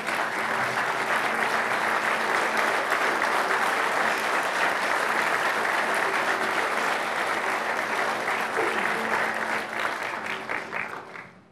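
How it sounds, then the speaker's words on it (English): An audience at a city's State of the City address applauds city staff, sustained loud, dense clapping filling the room for about ten seconds before thinning out and fading. "give them a round of applause for a job well done"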